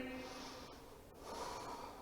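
Quiet, close breathing during a yoga lunge: soft inhales and exhales with a faint snort-like air sound, steady and low in level.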